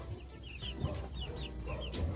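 Backyard chickens cluck softly in a coop, scattered short clucks and chirps at moderate distance over a faint ambient background.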